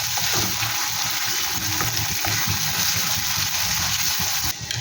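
Grated onion fries in hot oil in a pan for Punjabi paneer bhurji. A steady, close, bubbling hiss continues throughout with no voices.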